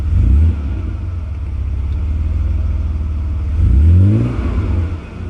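Engine of a 1991 Mercedes 300E with the air conditioning on, revving up twice in a steady drone with two rising surges in pitch, heard loud and close.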